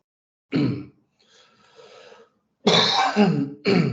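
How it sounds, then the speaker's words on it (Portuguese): Two sharp, loud coughs close by during a virtual court hearing, separated by a quiet stretch with faint breathy throat noise. "Minha tosse também, o que peço desculpa"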